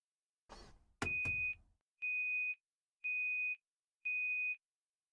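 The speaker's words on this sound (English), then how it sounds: "The washing machine I turned on before coming to the room let out a loud beep just as I was about halfway done with the book." A washing machine gives a loud electronic beep, then repeats it three more times in an even rhythm about a second apart, each tone steady and clear in an otherwise quiet room after a brief rustle.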